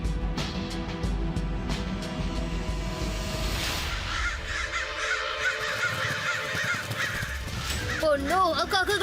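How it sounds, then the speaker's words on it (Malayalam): Several crows caw loudly and repeatedly, their harsh calls coming in bursts across a noisy background with other layered sounds. "ആ കാക്കകൾ നമ്മളെ കണ്ടു കഴിഞ്ഞു."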